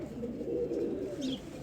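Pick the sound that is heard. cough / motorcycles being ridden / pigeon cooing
pigeon cooing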